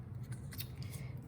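Scissors cut through cardstock up close with quiet, repeated crisp snips and a steady rustle, with no talking over them.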